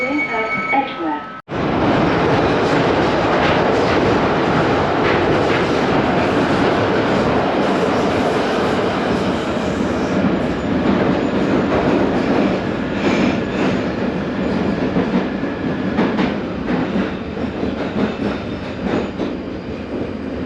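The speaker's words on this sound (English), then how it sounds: "This is a Northern Line train terminating at Edgware." A London Underground Northern Line train runs steadily, a loud continuous rumble with wheel roar and faint squeals throughout, after a brief quiet moment at the start; a recorded announcement voice speaks near the beginning.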